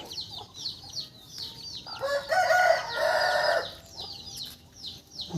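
A rooster crows while chickens cluck around a free-range coop on a Thai farm in the evening. Short calls come and go, with one louder, longer crow in the middle, all heard at moderate distance.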